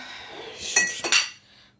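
Dishes and cutlery clink during kitchen cleaning: two bright metallic-glassy clinks a fraction of a second apart over a soft running background, close by, with no talking.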